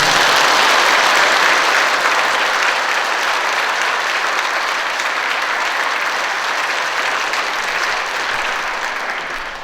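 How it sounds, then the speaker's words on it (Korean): A church congregation at a Catholic Palm Sunday Mass applauds the choir, producing a loud, even wash of clapping that holds steady and then begins to taper off at the end. "박수는 참 쪼잔하다. 다시 치세요."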